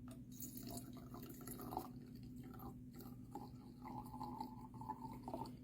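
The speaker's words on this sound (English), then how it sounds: "then we will fill the bottle with our vinegar solution" Vinegar solution poured into a small glass potion bottle, quiet liquid trickling and dripping with faint gurgles throughout, close and soft.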